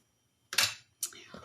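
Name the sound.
spraying makeup setting spray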